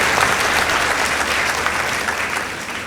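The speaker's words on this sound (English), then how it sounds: "Let's give them a round of applause." A school event audience claps steadily in warm, continuous applause for a competing girls' team.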